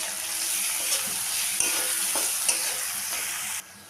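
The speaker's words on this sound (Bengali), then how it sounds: "পেঁয়াজটাকে ভেজে নিলাম" Chopped onion fries in a pan with whole cumin after chicken has been browned, giving a continuous loud sizzle with a few soft stirring scrapes before the sound cuts off near the end.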